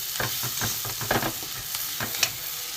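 Spices frying in a pan for dhaba-style egg tadka are stirred with quick repeated scraping strokes over a soft continuous sizzle, close and fairly quiet.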